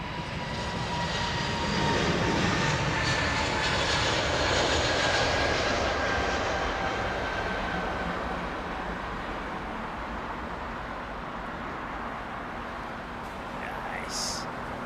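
A jet aircraft engine and auxiliary power unit at Heathrow Airport produce a loud, steady, close roar with a sustained high whine that continues throughout, easing slightly toward the end.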